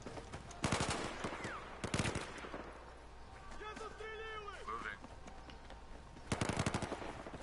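Automatic weapons fire in Battlefield 4 during a squad training drill: a sharp burst opens, another follows about a second later, and a final volley closes, with quieter whistling and mechanical game sounds in the gap between.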